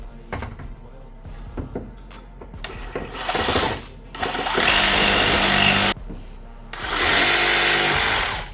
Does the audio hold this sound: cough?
no